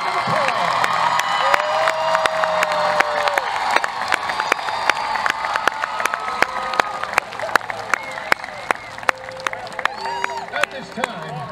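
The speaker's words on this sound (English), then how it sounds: "please join me in giving the 1969 Dobie High School football team a big round of applause." A homecoming crowd at a high school football event applauds with steady clapping and scattered cheers and shouts, sustained and fairly close throughout.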